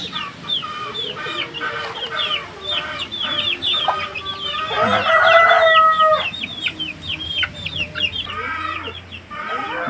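Native crossbreed chickens and penned chicks cluck and chirp steadily and close by, a dense chorus of hungry calls that swells midway with a louder drawn-out call, no talking.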